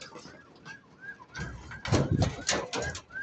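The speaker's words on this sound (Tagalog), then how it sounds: "Ayan, naglipara na mga kaibon." Pigeons cooing before being released to fly, soft repeated calls close by with scattered rustling and flapping-like bursts in the middle.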